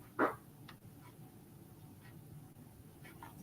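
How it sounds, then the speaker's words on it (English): A single short dog bark sounds once in a quiet indoor room, brief and moderately loud, followed by low background hiss. "Sorry, my dog."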